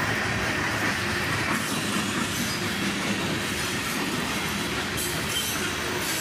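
A freight train with hopper cars, including a Chicago & North Western hopper, rolls past close by at good speed heading south, a steady loud rumble of wheels with clickety-clack and some wheel squeal throughout.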